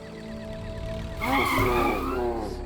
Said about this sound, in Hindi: ब्रेक क्यों लगा इतनी जोर से?